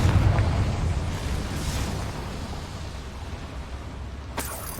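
A Confringo blasting spell explodes in the video game Hogwarts Legacy, a broad rumbling blast that slowly decays into a noisy wash, followed by a sharp crack near the end.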